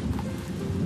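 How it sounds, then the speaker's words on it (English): A rain-and-thunder sound effect gives a dense, steady wash of falling rain with a low rumbling undertone. It is loud and continuous, with no voices. "When the clouds become heavier, the water droplets fall down."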